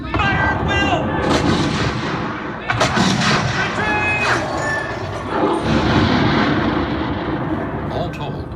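Volleys of musket fire crack out during a battle reenactment, repeated bursts of loud gunfire spread across the scene under shouted commands and crowd noise.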